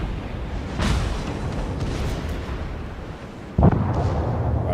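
Naval guns boom from a warship in World of Warships, two heavy blasts with rumbling tails amid the steady background roar of battle, no talking.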